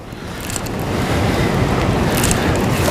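Boats passing a lake dock, a broad wash of hull and wake noise mixed with wind buffeting the microphone, steady and fairly close without speech.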